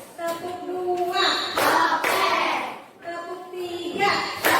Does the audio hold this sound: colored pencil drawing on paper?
no